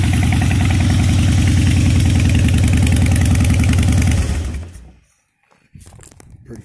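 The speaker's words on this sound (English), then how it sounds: "2005 Harley Davidson Duce." A 2005 Harley-Davidson Deuce motorcycle idles loud and close with a steady, deep, lumpy rumble, then shuts off and falls quiet, leaving only faint background noise afterward.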